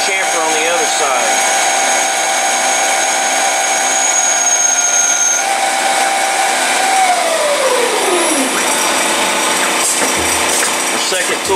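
Metal stock is chamfered and cleaned up on a lathe while making spacers, a loud sustained machining whine with shifting tonal squeals and one pitch sliding downward near the end.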